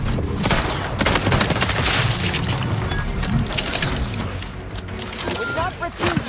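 Heavy gunfire in The Outer Worlds 2 sci-fi shooter: a dense, continuous burst of rapid shots and booms fills nearly the whole stretch, loud and close, with game voices speaking under the barrage before it thins at the end.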